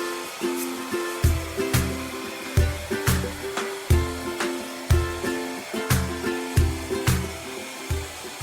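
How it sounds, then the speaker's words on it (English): A heat gun used like a hair dryer to dry wood stain, its whirring blower cutting in and out in short rhythmic bursts, close and fairly loud, with no voices. "Take the hairdryer gun and dry it."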